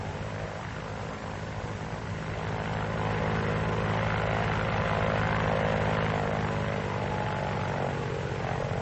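A Vought F4U Corsair fighter's radial piston engine roars steadily in a WWII training film, a dense continuous propeller drone that swells slightly louder midway, with no voices over it.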